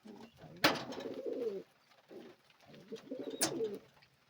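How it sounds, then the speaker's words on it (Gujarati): Pigeons and their chicks cooing close by, soft rolling coos repeating in two bursts with sharp flutters or taps between, fairly quiet and without talk. "આ છે બચ્ચા આપણા કબૂતરના"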